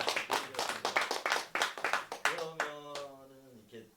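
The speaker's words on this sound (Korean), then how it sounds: "이쯤에서 박수 한번" Audience applause at a literary talk concert honoring a poet, with hundreds attending: a few seconds of dense, lively clapping that thins out as a voice begins over the last part.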